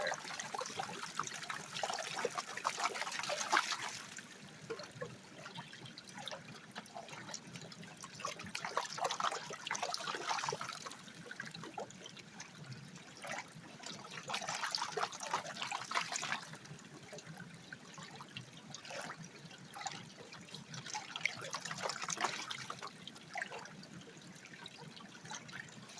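River water flows steadily past a gravel bar on the Wild Ammonoosuc River, a continuous broad rushing and trickling wash that swells and eases in slow waves, close by and with no voices.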